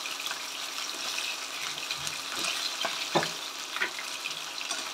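Rohu fish pieces fry lightly in hot oil in a pan, a steady close sizzle with a few small pops and crackles throughout, no talking.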